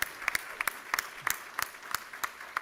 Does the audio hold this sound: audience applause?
yes